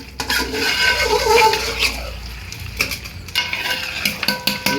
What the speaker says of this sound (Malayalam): നമ്മുടെ കപ്പ നല്ല ചുറ്റുവനായിട്ട് മിക്സ് ചെയ്തുകൊണ്ടിരിക്കുക